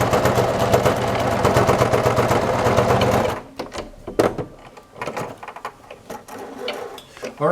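Sewing machine stitching a fabric face mask, a loud, fast rhythmic chatter of the needle for about three seconds, then stopping and giving way to handling clicks and rustles of the fabric.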